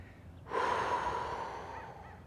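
A single deep, audible breath starts half a second in and holds steady as a long airy exhale during a quad-burning leg stretch in a beginner flexibility session, close to the mic with no talking.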